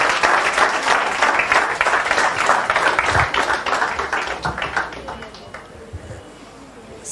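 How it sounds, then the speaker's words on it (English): Audience applause for young women designers at a design and craft event: sustained, fairly loud clapping from a crowd that gradually thins into scattered claps, with faint low voices underneath. "I think we can have a round of applause for all of them."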